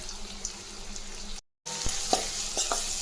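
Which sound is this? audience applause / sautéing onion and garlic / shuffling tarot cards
sautéing onion and garlic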